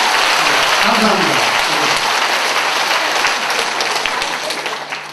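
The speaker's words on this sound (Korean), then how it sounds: "박수 한번 다시 한번 칩니다." An audience at a lecture at Busan's Yeongdo-gu district office bursts into loud, dense clapping that holds strong, then gradually thins and fades over the last seconds.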